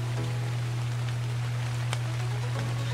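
Steady rain falls in a medieval-style building game, an even wash of patter with a constant low drone beneath and a few brighter drop ticks.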